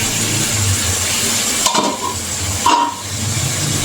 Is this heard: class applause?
no